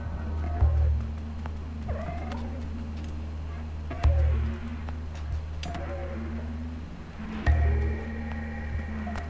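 A cat meowing in the video game Stray, three loud drawn-out meows spaced a few seconds apart over a steady low background hum.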